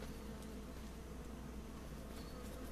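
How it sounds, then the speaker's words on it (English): Bees buzz in the farming game Farming Simulator 25, a faint, steady insect drone that holds evenly without breaks. "Oh, that's the bees."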